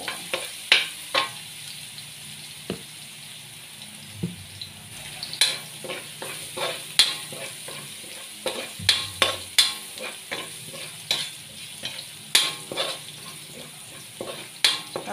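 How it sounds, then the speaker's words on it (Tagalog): Garlic browning in a pan for mung bean stew, a steady quiet sizzle broken by repeated sharp scraping taps of a utensil stirring, close and alone with no voices. "Pa-brown ko muna ang bawang."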